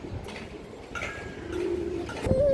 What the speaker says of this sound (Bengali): এটা পুরান লাইনের বাঘা কবুতর